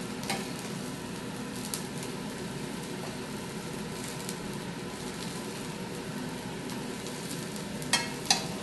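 Noodles sizzle and fry in a very hot pan, a steady crackling hiss close by, with occasional scraping stirs and two sharp clinks near the end, no talking.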